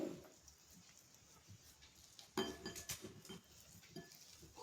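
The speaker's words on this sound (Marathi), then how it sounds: "हे बटाटे आपण असे बारीक करून घ्यायचे" Boiled potatoes mashed in a dish for medu vada, soft scraping and clinking of utensil against the dish in faint, irregular strokes, louder toward the end.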